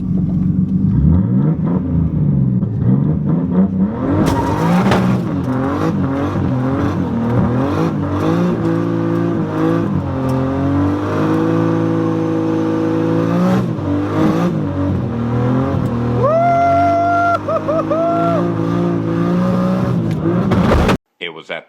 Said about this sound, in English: Yeah, I love this car.